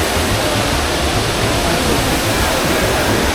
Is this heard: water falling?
yes